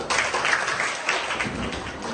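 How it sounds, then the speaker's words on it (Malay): Students in a micro-teaching classroom lesson clap for all the groups, a short burst of moderately loud, dense clapping that lasts about two seconds. "tepuk tangan untuk semua kumpulan"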